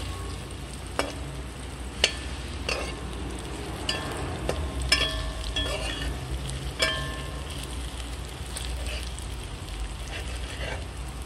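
Dumplings cooking in a pot for curried crab, a continuous soft frying sizzle broken by several sharp clinks and scrapes of stirring, close by, with some talk over it.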